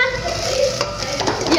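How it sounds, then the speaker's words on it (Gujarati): A metal cooking pot clatters to the floor in a home kitchen where milk is being prepared. The short metallic crash rings out once amid household voices. "એ તપેલું પડી ગયું."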